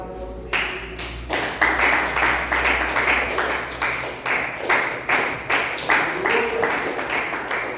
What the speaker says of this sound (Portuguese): vamos receber o pastor Luiz com a salva de palmas para você